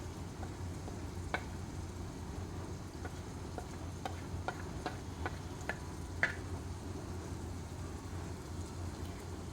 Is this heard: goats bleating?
no